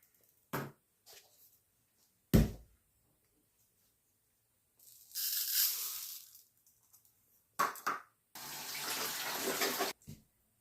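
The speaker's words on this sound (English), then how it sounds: "First off, I'm going to put rice in, and I always rinse my rice." Rice being rinsed under a running kitchen tap: short splashes of water, then two longer gushes with brief clinks and quiet pauses between them, close and fairly soft.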